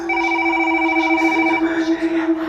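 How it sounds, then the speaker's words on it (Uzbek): A door intercom phone rings electronically, a steady multi-tone chime held for over a second and a half, then shifting to a brighter pattern, fairly loud and close. "Shu payt eshik telefoni jiringladi."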